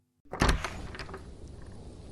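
A door swings open with a sharp thunk and latch clatter, followed by a lingering hollow rustle and faint wind-like hiss from a snowy cold night outside; no voices.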